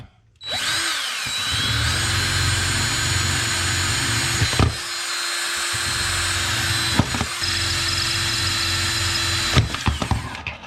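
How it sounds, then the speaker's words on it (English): A power drill bores out the secondary butterflies of a carburetor on a big-cam big-block Chevy to 3/32, whining loudly and steadily for several seconds with brief pauses and a few sharp catches. "Going to drill these two out to 3/32, and I'm going to drill into the secondary butterflies as well."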